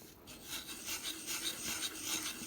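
Gentle, steady rubbing of a Napoleon III 5-centime coin with 000 steel wool: a soft continuous rasping scrape with light rhythmic strokes, close and quiet, with no voices.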